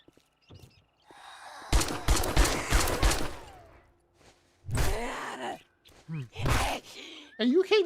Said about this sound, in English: And you keep shooting.